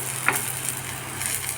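Whole cumin, dried red chili and chopped onion frying in hot oil and ghee for a dhaba-style veg tarka, a steady close sizzle with a faint stir or two, no talk.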